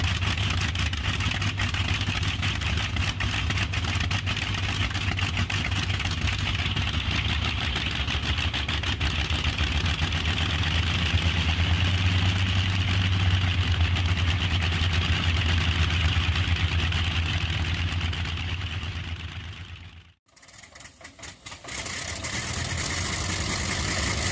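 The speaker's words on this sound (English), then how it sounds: "the live running of a Bristol Hercules engine" A WWII-era Bristol Hercules radial aircraft engine, rated over 1,500 horsepower, runs steadily at an outdoor display at Croft Circuit, a loud continuous drone with deep rumble that briefly cuts out near the end before resuming.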